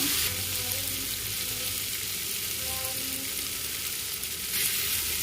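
Onion and tomato sauté in a pan for a bitter gourd kolambu, giving a steady broadband sizzle throughout with faint stirring, close and moderately loud, no talking.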